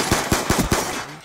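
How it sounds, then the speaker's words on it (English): Call of Duty: Black Ops 2 gunfire: a quick, loud burst of about five rapid automatic shots at an even rhythm, heard close, then a brief fading tail. "Why are you shooting at me?"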